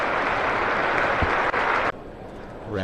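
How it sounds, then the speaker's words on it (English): Spectators at a county cricket ground clap for a batsman's hundred, a dense continuous patter of applause heard from a distance that cuts off abruptly near the end, leaving quieter background. "You can hear the applause."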